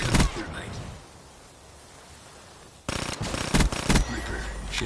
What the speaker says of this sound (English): Razorback gun. See, this thing's an AR.